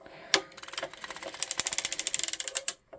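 An Erlbacher circular sock knitting machine is hand-cranked while knitting a 48-stitch DK boucle slipper sock. Rapid, close mechanical clicking and ratcheting speeds into an even rhythm, then stops, with no voices.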